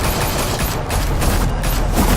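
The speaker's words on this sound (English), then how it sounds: "Open fire!" Gunfire in the video game Batman The Telltale Series, a dense, loud fusillade of overlapping shots filling a short stretch without a break.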